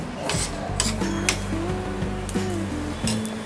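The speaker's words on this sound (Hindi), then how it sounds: "पैन में ये ब्राउन टॉप मिलेट डालेंगे और इसे धीमी आंच पे हम इसे ड्राई रोस्ट करेंगे" Browntop millet dry roasting in a pan over low heat, stirred with a utensil that scrapes and clinks against the metal in a steady series of light taps, with a tonal hum running underneath.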